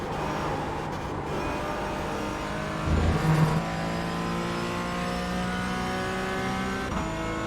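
Race car engine in the iRacing sim game, a steady high-revving drone with sustained harmonic whine throughout, a brief louder surge and shift around the middle, then continuing at a constant pitch.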